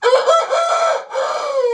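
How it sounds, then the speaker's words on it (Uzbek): A one-eyed rooster crows once at close range, a loud drawn-out call broken by a short pause near the end. "Bir ko'z xo'roz bu."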